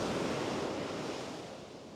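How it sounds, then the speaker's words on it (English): Ocean waves break on a beach with a broad, close wash of surf that swells and then slowly fades, and nobody speaks over it. "These waves are breaking as they come into the beach."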